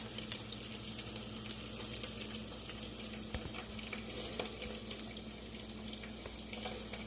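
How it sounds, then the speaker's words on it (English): Quiet, steady sizzling and crackling of hot bacon grease in a pan, with scattered small pops throughout. "You can see where it's bubbling out up and it's sizzling a little bit."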